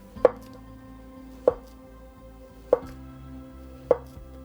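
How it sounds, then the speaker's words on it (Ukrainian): A knife slices a banana onto a board four times, each cut ending in a sharp tap against the surface, evenly spaced with quiet between. "я нарізаю його ось на такі тоненькі дольки"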